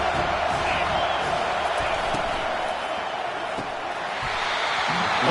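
A stadium crowd at a Wisconsin college football game on a big third down keeps up a sustained, broad roar of cheering that holds steady and swells slightly near the end, with no talk over it.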